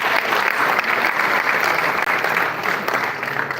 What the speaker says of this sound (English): Important that we give it a round of applause, please.